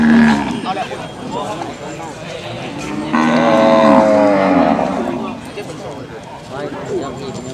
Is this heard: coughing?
no